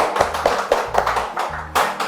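A small group claps in a classroom lesson setting: about seven or eight sharp, rhythmic hand claps in a steady beat, close and clear, with little else heard.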